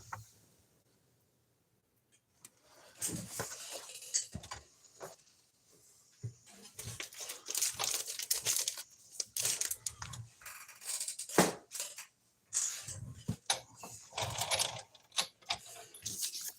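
Fiskars fussy-cutting scissors snip through paper to cut out cloud shapes, giving soft, close crisp clicks and rustles in irregular bursts separated by short pauses.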